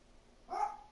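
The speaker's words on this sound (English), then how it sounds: "Sorry guys, that's my dog, if you guys can hear that." A single short dog bark, faint and somewhat distant in a quiet room, lasting a fraction of a second.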